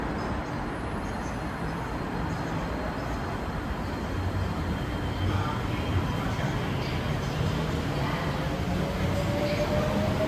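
A steady, loud rumble of a metro train in China rolling along a line that passes through a residential building, with continuous wheel and track noise and a faint high squeal, no breaks throughout.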